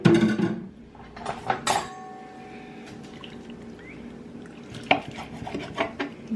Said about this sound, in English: We'll just cut these in random little pieces.